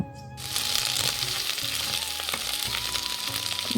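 Steady sizzling of potato, Malabar spinach stems and pointed gourd frying in a pan, a constant crackling hiss that starts abruptly and continues, with faint scraping of stirring.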